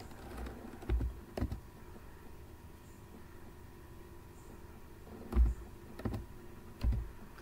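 Keys tap on a computer keyboard while a code is entered, a few scattered soft clicks in small clusters with pauses between, fairly faint over a low background hum, with no talking.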